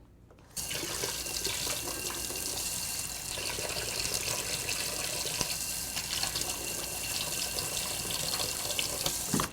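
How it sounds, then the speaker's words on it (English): Hot water gushes from a kitchen tap as a knife is rinsed under it, a steady, close splashing hiss that starts abruptly after a brief pause and runs on evenly. "I'm just going to run a knife under some hot water to make it nice and hot"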